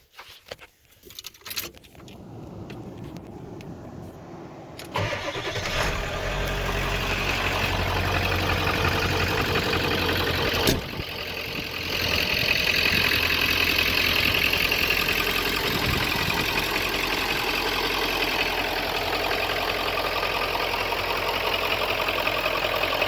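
An old Ford OBS pickup truck is cranked and fires up, settling into a steady, loud idle; a jingle of keys and faint clicks come first, then the engine catches around the middle and runs evenly to the end.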